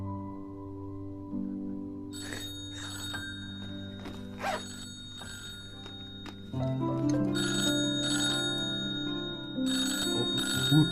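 A phone ringtone chimes repeatedly in a melodic pattern over a steady low hum, moderately close and alone without voices, in a restaurant scene from a Chinese television drama.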